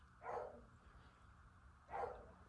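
A dog in a winter mountain boarding kennel gives two single barks about a second and a half apart, moderately close, with low background rumble and no talk.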